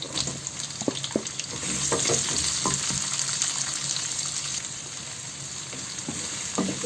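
Chopped garlic and onion hit hot oil with kalonji seeds, giving a steady close sizzle with occasional stirring clicks and spatters, no talking.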